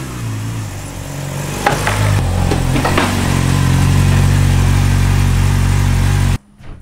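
A motorcycle engine runs loud and close at a steady, slightly uneven idle with a few throttle blips as the bike goes onto a trailer, then cuts off abruptly just before the end.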